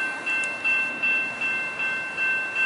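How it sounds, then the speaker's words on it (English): Northbound Amtrak Surfliner train nearing Del Mar, its continuous rolling rumble rising and falling in a regular beat under a thin high steady tone, heard without talk. "here comes another northbound surf liner about to fly through Del Mar"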